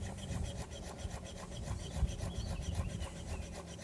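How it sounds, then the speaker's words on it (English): A knife finely slicing lemons on a wooden board, steady rubbing, rasping strokes repeating close by without talk, in a Northern Italian village kitchen. "line these up and just slice them really finely"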